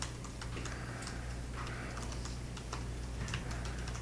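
Rapid typing on a computer keyboard, a dense stream of close, light clicks over a steady low electrical hum, with no talking.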